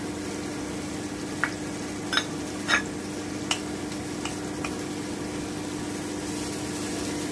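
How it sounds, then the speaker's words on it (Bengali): Cumin paste and coriander powder are stirred in a pan for a simple vegetarian new-potato dum, giving a handful of soft scraping taps spread over a steady low background hum, with no talking. "আমি এক চামচ মতো জিরে বাটা দিচ্ছি হাতের আন্দাজে দিচ্ছি একটু নেড়ে নিচ্ছি আমি ধনে গুঁড়োটা দিয়ে দিচ্ছি"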